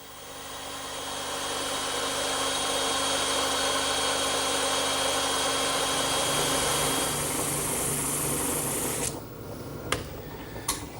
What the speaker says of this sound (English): and that's another job for the bandsaw.